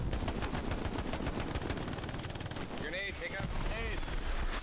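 Dense gunfire in the WWII shooter Hell Let Loose, with rapid machine-gun bursts hammering continuously near and loud, while voices talk over the shooting partway through.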